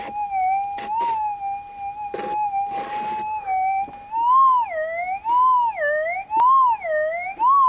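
A GPX 6000 metal detector set to Auto 12 with an 11-inch coil, sweeping difficult ground in an abandoned mine, gives a steady whining tone that warbles and rises and falls in pitch as a target signal, with faint scuffing underneath.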